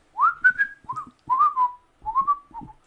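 A person whistles a short melodic phrase alone, clear rising and falling tones in three separate bursts with brief pauses between them, close and fairly loud.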